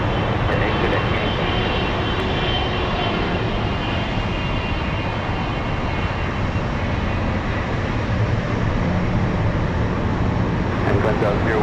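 A cargo airplane lands at Anchorage airport, its engines producing a continuous, loud, broadband roar that holds steady without a clear build or fade.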